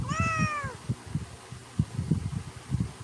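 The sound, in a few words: cat meowing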